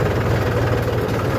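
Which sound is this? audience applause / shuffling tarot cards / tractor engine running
tractor engine running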